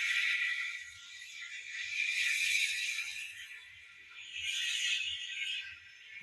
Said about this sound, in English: Yeah, safety valves.